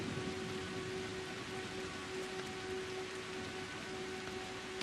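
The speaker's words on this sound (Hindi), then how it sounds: "वो क्या है कि बारिश होने लगी और कोई जगह नहीं मिली थी" Steady rain falling outdoors near a house, a continuous soft, even hiss that stays at a constant level throughout with no voices.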